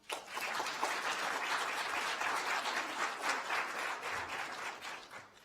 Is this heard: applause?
yes